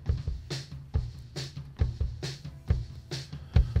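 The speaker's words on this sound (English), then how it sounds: "So all we're going to hear is this kick drum right now." A soloed kick drum channel plays back at a live front-of-house desk, giving steady thumping beats about twice a second with faint bleed from other instruments in the mic, no talking.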